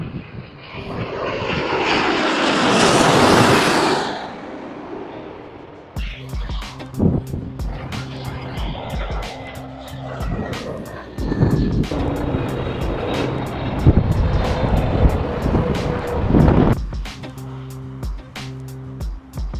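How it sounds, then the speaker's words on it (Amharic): Planes at busy Frankfurt Airport roar loudly overhead in a rising and fading jet rush, then engine noise continues at a distance under intermittent clicking and handling sounds. "በቅርብ ርቀት ቶሎ ቶሎ ስለሚመጡ አውሮፕላኖች ልጆቻችሁ አይሰለቻችሁም።"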